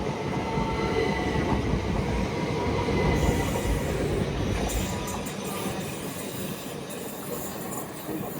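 A pair of Class 377 electric trains rumbles past at Clapham Junction, a loud continuous roar of wheels on rails with squealing and clattering that eases slightly toward the end.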